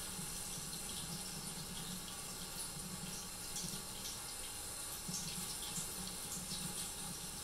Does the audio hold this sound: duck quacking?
no